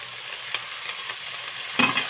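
Tomato fries and sizzles in a pan for cabbage palya while a spatula stirs it, a steady close hiss broken by occasional scraping strokes and a louder stir near the end.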